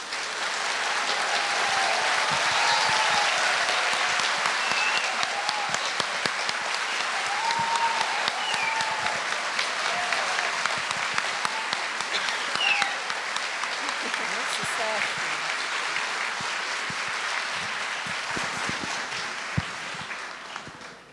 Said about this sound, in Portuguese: Eu ia pedir uma salva de palmas, que bom que não foi preciso.